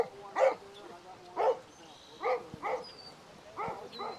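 A dog barks in about five spaced, moderately loud woofs at a steady rhythm outdoors, with faint background noise.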